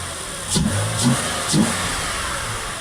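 A Porsche 986 Boxster S engine runs steadily at close range after an air-oil separator replacement, with three short revs rising above the idle in quick succession.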